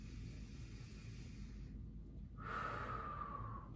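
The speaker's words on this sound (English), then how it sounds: "Let's do one more deep breath here." A deep, slow breath drawn during a standing stretch flow, steady breathy noise building into a louder exhale in the latter half, close and clear with no talk.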